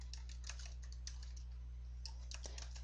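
Fingers tap out an address on a computer keyboard in quick irregular bursts of clicks, quiet and close, with a steady low electrical hum underneath and no talking.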